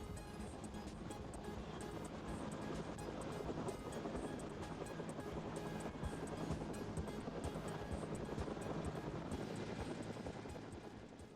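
Continuous thudding rotor chop of a Bell 205 helicopter hovering out of ground effect, steady and loud, holding constant without rising or fading, with a rushing wash underneath.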